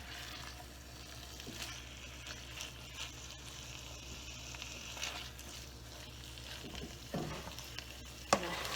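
Kale cooking down in a pan gives a soft continuous sizzle and frying hiss, with occasional stirring scrapes and a brief clatter near the end, fairly quiet and without talk.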